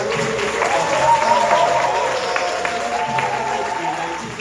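Church congregation applauding missionaries during a Sunday worship service at Chiang Mai Heaven Church, a steady wash of clapping throughout with a voice speaking over it.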